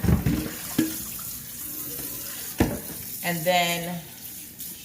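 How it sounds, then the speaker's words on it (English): Tap water runs and splashes into a sink while pork shoulder is rinsed, a steady moderate wash broken by sharp splashes, with someone speaking briefly. "we are going to be washing our meat thoroughly, especially pork. So I first rinse it really well."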